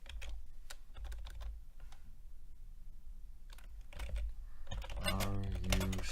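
Keystrokes on a computer keyboard while typing a chat message during an online rapid chess game, a steady run of close clicks that grows busier and louder toward the end.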